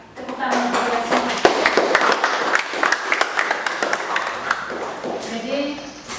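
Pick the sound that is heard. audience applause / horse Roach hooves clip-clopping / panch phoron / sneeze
audience applause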